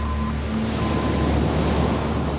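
Heavy sea surf crashes and churns at Ajuy's black sand beach on Fuerteventura, a loud, dense roar of breaking waves with wind buffeting the microphone throughout.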